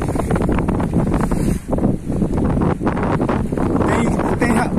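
Strong wind blows on the open sea during net fishing from a boat. A constant, loud, roaring rush of buffeting gusts sits close to the microphone for the whole stretch.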